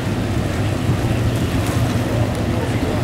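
A racing boat heads out on a lap. Its engine drones steadily beneath strong wind and splashing water for a few seconds.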